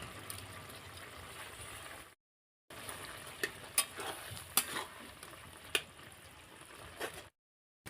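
Fried fish head goes into a pan of spiced cabbage with a little water, bringing a low bubbling sizzle with scraping stirs and sharp clicks, broken by two short silent gaps.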